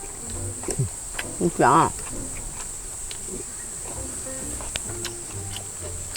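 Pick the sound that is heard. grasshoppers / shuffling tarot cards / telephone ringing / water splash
grasshoppers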